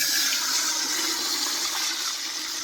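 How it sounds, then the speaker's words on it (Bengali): Water poured into a pot of fried lentils while making khichuri, a steady loud gushing pour throughout with no voices. "জল দিয়ে দিলাম"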